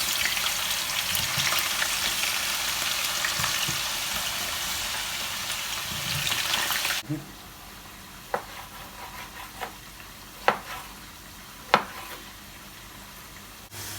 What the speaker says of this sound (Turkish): kızaran yağımızın ardından patateslerimizi tavaya alıyoruz